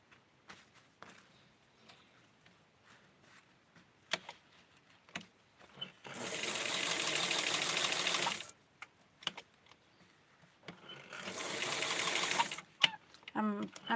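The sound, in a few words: sewing machine stitching doll lace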